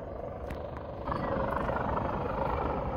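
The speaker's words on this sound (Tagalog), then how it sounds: "Ayan yung helicopter." A helicopter flies overhead during a mountain rescue on Castle Peak, a steady low rotor and engine rumble that grows louder after the first second and holds, with no talk.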